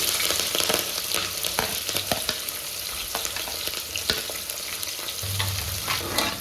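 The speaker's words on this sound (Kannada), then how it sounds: "ಆನಿಯನ್ ಫ್ರೈ ಆಗ್ತಾ ಇದೆ" Sliced onions and curry leaves fry in a pan for sweet corn pulao, a loud continuous sizzle close by, broken by occasional sharp scrapes and taps of a stirring spoon.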